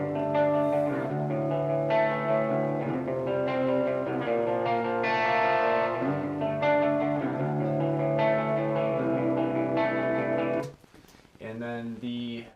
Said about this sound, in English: So here's what the clean tone sounds like.